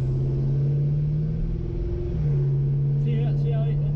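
A 1969 Pontiac Grand Prix family car engine runs close by with a steady, deep idling rumble that shifts slightly in pitch midway, and faint voices come in near the end.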